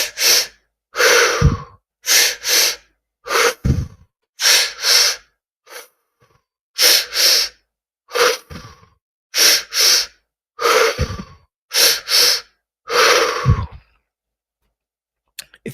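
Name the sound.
person breathing deeply during a pranayama breathing exercise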